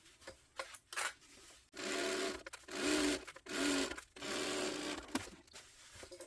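Sewing machine quilting a foam-backed tote bag panel, running in several steady buzzing bursts of about a second each, separated by short stops and handling noises, close and clear.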